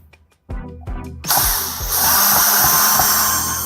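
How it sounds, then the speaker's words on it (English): A power drill backs long drywall screws out of an electrical box, starting with short whirring bursts and then running in a loud, sustained grind up close. "I've got my drill out here to make this part easy."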